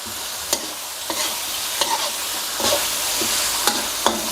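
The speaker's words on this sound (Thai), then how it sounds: "ผัดคลุกเขาให้เข้ากันอีกเล็กน้อยครับ" Chicken with chili paste and spring onions is stirred and tossed in a hot pan, with sharp scraping clatters every second or so over a steady sizzle.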